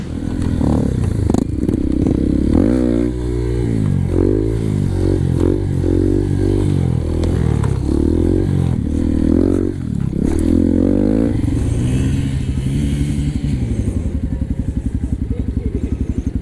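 A motorcycle engine revs and sputters nearby, rising and falling in pitch, with some clattering and people talking over the rough idle.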